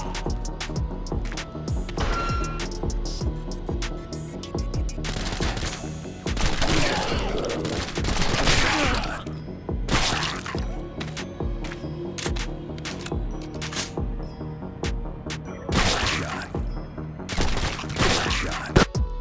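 Gunfire in Last Hope 3, a post-apocalyptic zombie shooter mobile game, comes as repeated bursts of rapid shots that surge and pause over a steady game backdrop, with no talking.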